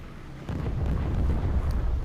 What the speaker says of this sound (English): Now it detonates the ammo.